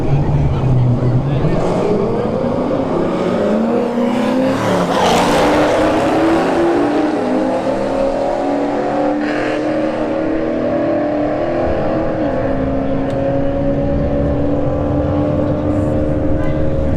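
At a street drag racing test-and-tune night, a C5 Corvette and a Trans Am Firebird roar past, engines rising and falling in pitch as they pass, loud against constant crowd and track noise.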